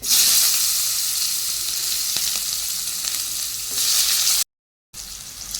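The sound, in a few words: nigella seeds and onion frying in hot oil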